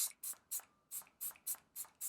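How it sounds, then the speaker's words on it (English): Eight quick, evenly spaced hisses of a makeup setting spray being spritzed onto a face, each short and crisp, close by with no talking. "now I want you to just spritz your face very lightly again"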